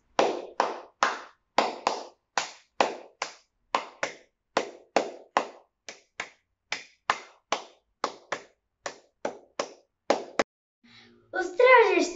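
Flamenco palmas ring out as sharp, dry hand claps in a steady rhythmic pattern, about twenty strikes close to the mic in a quiet room, before a brief voice and noise come in at the end.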